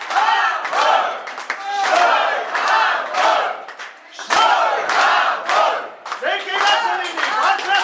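Wedding guests at an Armenian wedding cheer together for the couple, a crowd of voices shouting in rhythmic, repeated loud bursts close by, like a chant rising and falling several times.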